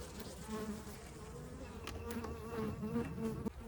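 Honey bees buzz steadily around a nucleus box packed with nurse bees during queen rearing in Texas, a close, continuous drone with a shifting pitch and no talking.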